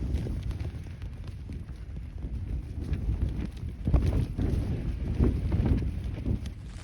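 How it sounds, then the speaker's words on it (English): Gale-force wind gusting around a tent on Kinder Scout, a low buffeting roar that swells and surges in strong gusts, close and continuous. "The wind is still gusting a gale and the rain started now."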